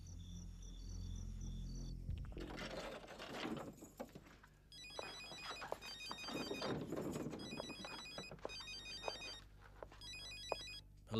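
A telephone rings in repeated electronic bursts during a telenovela scene, mixed with faint insect-like chirps and background rustle, moderately quiet and without speech.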